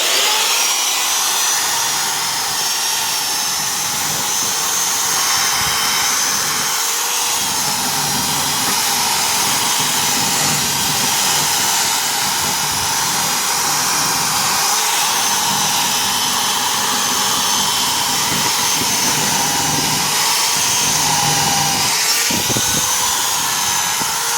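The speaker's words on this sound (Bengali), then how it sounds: "কি সুন্দর ফিনিশিং হচ্ছে মেশিন দিয়ে ঘোষার জন্য" Electric sanding machine polishing a wooden bed, a loud, continuous grinding whine that holds steady for the whole stretch with no talking.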